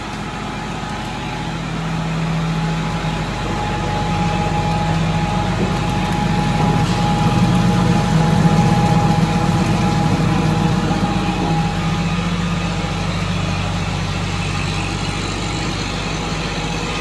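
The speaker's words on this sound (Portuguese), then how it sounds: "Tocado pela tomada de força no trator." A sugarcane mill driven by a tractor's power take-off runs during a production test, with a continuous heavy engine rumble and mechanical hum that stays steady and fairly loud, and no talking.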